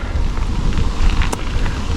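Wind buffets a microphone on a long bike ride, a dense, loud, continuous roar of gusty noise with a brief sharp click partway through.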